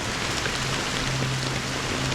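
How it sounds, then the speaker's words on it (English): Steady rain falls in the video game Honkai Star Rail, in the dream city of Penacony, a dense even hiss of drops on surfaces with a faint low hum beneath, no voices. "How long has this rain been ongoing?"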